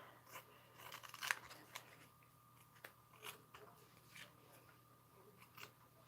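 Scissors trimming fabric in foundation paper piecing for a daffodil quilt block, quiet close snips spaced out irregularly with a soft background hum.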